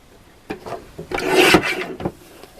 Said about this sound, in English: I'm going to use my guillotine trimmer for that again